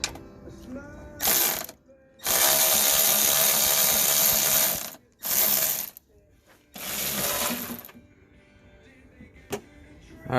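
Ratchet removing strut bolts up top on a car's front suspension gives several bursts of rapid clicking, some long and some short, close and loud with pauses between and no talk.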